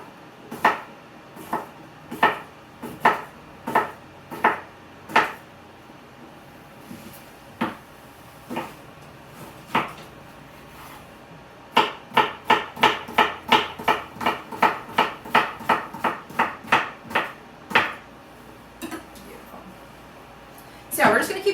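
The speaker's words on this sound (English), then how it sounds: "So yeah, we're just going to keep chopping away here, get everything ready to go." A knife chops sweet potatoes, radishes and turnips on a cutting board, making sharp, close knocks. They come first as spaced single strikes, then as a faster run of rapid chops, with pauses between.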